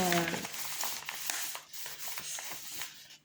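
Glossy satin paper pattern sheet for diamond painting crinkles and rustles as it is handled, with soft rubbing and crackling close by, under a faint background hum.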